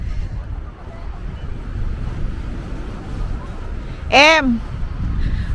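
Steady cold wind rushing across the microphone with a low rumble throughout, and a brief rising whistle-like tone near the end, outdoors in South Korea.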